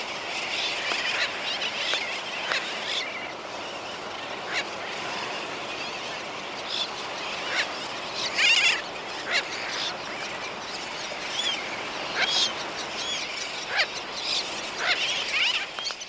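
A dense colony of sooty terns, black-and-white seabirds, keeps up a continuous chorus of overlapping calls, with sharper individual cries popping out now and then over a steady wash of bird noise.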